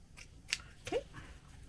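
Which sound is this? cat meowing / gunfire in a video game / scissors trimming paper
scissors trimming paper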